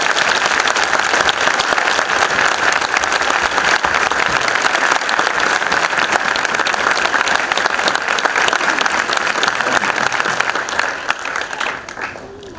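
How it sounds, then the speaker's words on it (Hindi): A church congregation at a Christian sermon claps loudly and continuously, a dense sustained wave of applause that fades slightly at the very end. "हम सब मिलके यीशु के लिए जोरदार ताली बजा।"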